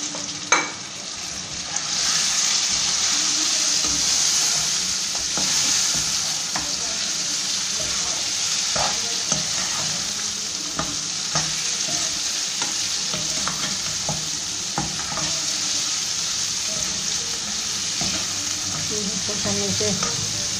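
Mutton fries with masala in a pan in a continuous close sizzle. Repeated stirring strokes scrape and clack over it throughout.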